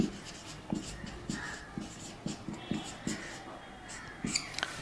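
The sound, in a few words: writing units and dimensions during a lecture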